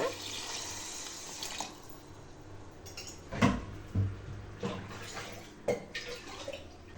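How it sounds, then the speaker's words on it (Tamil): Water poured from a glass into rice for paneer biryani in a home kitchen, a steady wash of splashing with a few sharper knocks and clinks from the vessel. "நம்ம தண்ணி ஆட் பண்ணிக்கலாங்க"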